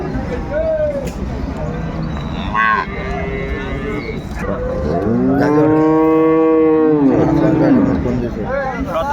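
Dairy cows and calves at a rural cattle market in Dinajpur, Bangladesh, letting out several loud, drawn-out moos close by, with one especially long bellow, amid the steady murmur of market crowd and people talking.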